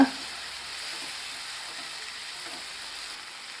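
Chopped tomato stirs and fries with prawns for a prawn pepper thokku, giving a steady, even sizzle and hiss close by that carries on alone without a break.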